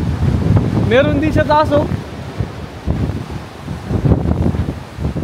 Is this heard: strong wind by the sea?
yes